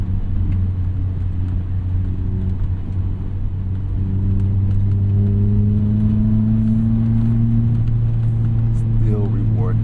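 Mazda ND3 Miata driving on wet, snowy roads with curves, heard from inside the cabin as a steady engine drone and road rumble, with a gradual rise in pitch as it accelerates.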